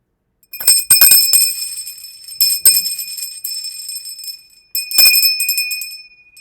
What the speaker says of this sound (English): Loud ass bell.